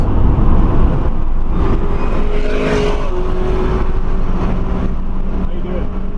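An Audi A3 e-tron accelerates hard around a race track, its loud engine note and road roar continuous and close as the car pulls on, with a voice speaking over it.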